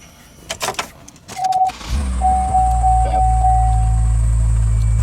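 A 2005 Chevy Trailblazer starts after a few clicks and a short chime. The engine quickly catches and settles into a steady, close idle with a constant low hum and a faint high whine.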